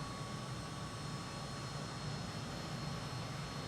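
Steady, unbroken jet engine roar of a MiG-21bis in flight within Microsoft Flight Simulator 2020, a constant dense drone with a faint high whine held throughout, no voices.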